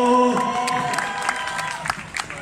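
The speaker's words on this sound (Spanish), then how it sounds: "Quiero un fuerte aplauso para Falco." A crowd at a freestyle rap battle event applauds and cheers a judge being introduced, with a held tone at the start giving way to scattered clapping and shouts that grow livelier toward the end.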